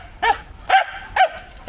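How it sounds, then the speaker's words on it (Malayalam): A dog at a family home in Kattappana, Kerala, barks four times, loud and close, with short pauses between the sharp barks and no voices. "എന്നെ കണ്ടിട്ട് നീ എന്തിനാ കുരയ്ക്കുന്നേ?"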